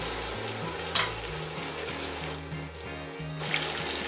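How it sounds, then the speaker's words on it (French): Pork hocks sizzle and crackle steadily in a hot pan with butter, with occasional stirring clinks and a low hum underneath. "j'ajoute les jarrets de porc que je vais faire revenir 4 à 5 minutes de tous les côtés"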